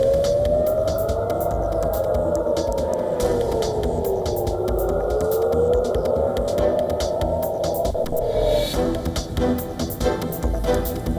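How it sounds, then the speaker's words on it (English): A wailing air raid siren in central Israel, sounding over a missile launch from Iran, rises and falls slowly over a steady rumbling background, loud and continuous, then cuts off near the end. "Siren sound across central Israel as military detects new missile launched from"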